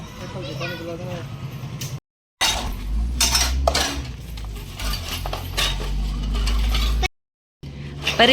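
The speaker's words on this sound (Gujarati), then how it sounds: "વાસણ ઉટકો છો વાસણ ઉટક ના પાડે છે" Dishes and cutlery clinking and clattering as they are washed in a village home, while adults and children talk nearby.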